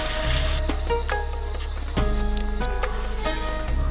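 Tripe (bhuri) hits a hot pan and sizzles loudly at first. Hissing frying continues, and stirring and utensil clatter break in now and then.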